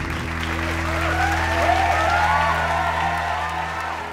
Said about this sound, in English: Please give these graduates a round of applause.